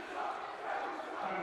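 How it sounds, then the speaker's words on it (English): Home crowd at a Corner Canyon boys high school basketball game against Lone Peak, roaring steadily in protest over a foul call, a dense continuous wash of many voices filling the gym. "And the Corner Canyon crowd letting them know."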